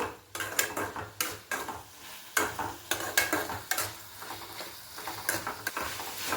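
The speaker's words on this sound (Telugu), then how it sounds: "టమాటాలోంచి వచ్చిన నీరంతా ఇంకిపోయే వరకు మనం మగ్గించుకుందాము" Chopped tomatoes cook down in a pan for a Telugu cucumber and brinjal chutney. A spatula stirs and scrapes in irregular, close clatters over a soft, quiet sizzle, with no talking.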